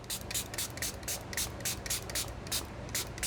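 A quick series of short spray bursts from a pump bottle of spray stain, about a dozen hissing puffs in an uneven rhythm, close by.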